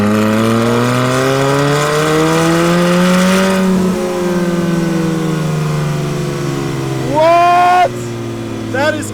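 A turbocharged and supercharged car engine revs hard, its pitch climbing and falling in long sweeps, then a sharp rising whoosh from the blow-off valve near the end, with people talking nearby.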